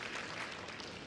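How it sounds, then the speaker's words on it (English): Audience at a medical convention and expo giving a round of applause: a faint, steady patter of many hands clapping in a hall, heard only briefly. "Can we give a round of applause"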